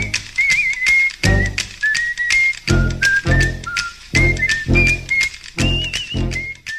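A whistled tune rings out in clear, melodic phrases over rhythmic thumping beats, loud and close, like a basketball warm-up routine with no talk.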